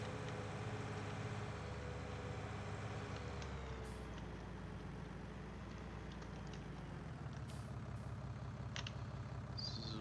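Farming Simulator 19 tractor engine drones steadily at a low rumble while driving, a continuous close mechanical hum with faint clicks and a few short hisses on top.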